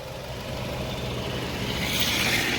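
A Maruti Suzuki K-series engine idles on CNG, a steady, smooth low hum with no knocking, continuous and fairly close throughout.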